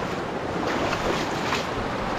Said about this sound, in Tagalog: Lakas na ragasa ng tubig